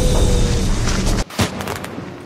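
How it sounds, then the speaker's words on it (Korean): A kkotsal, a firework signal arrow, is shot into the sky in a Korean historical drama scene, giving a loud burst that cuts off abruptly, then a second sharp crack followed by a fading hiss. "꽃살이 뭐냐면 여기 대길패거리들끼리 신호 보낼 때 쓰는 건데 폭죽으로 쏴가지고 신호를 보내는"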